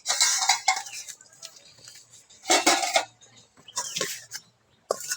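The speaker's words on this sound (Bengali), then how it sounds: "এখন ঢাকাটা খুলে দেখবো সব সিদ্ধ হয়েছে কিনা।" A pot lid covering steamed tomatoes and coriander leaves is lifted, giving several sharp metallic clanks and rattles in bursts with quiet gaps between them, close and clear, with no talking.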